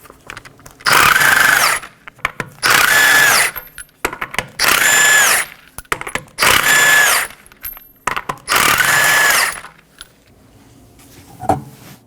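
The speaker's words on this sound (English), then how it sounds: "I'll be using a 21mm socket to remove the 5 lug nuts" An impact tool with a 21mm socket spins off the five lug nuts on a 2015-2023 Nissan Maxima rear wheel, sounding as five loud, separate whirring, squealing bursts with brief metallic clinks between them.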